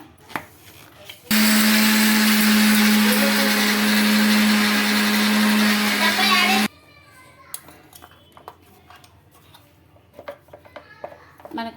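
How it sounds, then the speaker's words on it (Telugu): A mixer grinder whirs loudly for about five seconds, grinding sugar with cardamom pods smooth, then cuts off abruptly, leaving kitchen clinks and a few faint voices. "అందులోకి ఒక రెండు ఇలాచి వేసుకొని మిక్సీకి గ్రైండ్ చేసుకోవాలండి స్మూత్గా"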